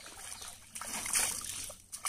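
Someone bathes in a cold natural pond at Brahma Sarovar in Ramgarh, Baran, making soft, intermittent splashes and trickles of water that are faint and fairly close.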